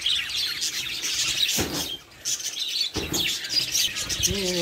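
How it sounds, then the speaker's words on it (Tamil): Lovebirds at a bird farm chirp and tweet in a dense, high, overlapping chorus, loud and continuous with a few sharper calls standing out. "இப்போ வந்து பேர்ட்ஸ் சத்தெல்லாம் கேட்கும்னு நினைக்கிறேன்"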